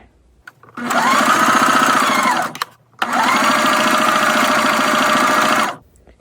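A sewing machine stitching fabric for a scrunchie runs loud and close in two sustained bursts, the second longer, with a brief pause between and quiet before and after.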